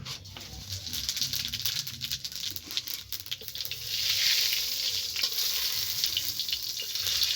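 Whole cumin seeds sizzle and spit in hot mustard oil in a karai, a steady crackling fry that swells louder partway through, with no talking.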